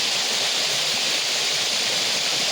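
Tatiguda waterfall pours without a break, giving a loud, even hiss of rushing water that fills the whole stretch with no voices over it.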